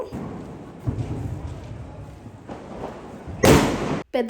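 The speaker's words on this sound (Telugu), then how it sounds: "పెద్ద క్రాకర్స్ ఏమో మా చిన్నోడు కాలుస్తుంటే నేనేమో ఇక్కడ పాప్స్ అయితే కాలుస్తున్నాను." Diwali firecrackers and small pop crackers going off outdoors, muffled thumps and crackling early on, then a loud close burst of crackling that cuts off abruptly.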